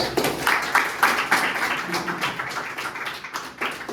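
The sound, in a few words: students clapping for Neha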